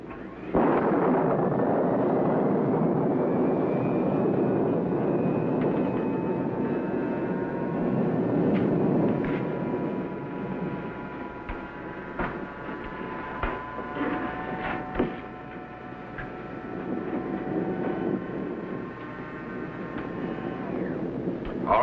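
A loud, rumbling electronic hum with wavering high tones that rise and sustain, swelling and shifting over about twenty seconds, like a futuristic machine powering up; a sci-fi materialization effect from a 1956 TV show.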